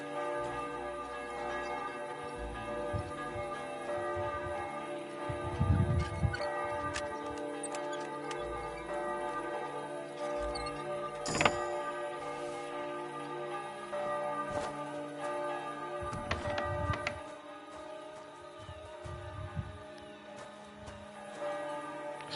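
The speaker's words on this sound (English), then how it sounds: "Actually, sounds like there's a bell coming from there." A church bell tolls in the distance in the medieval game Kingdom Come: Deliverance II, a few faint strokes rising over a steady ambient music bed and soft tick-like clicks.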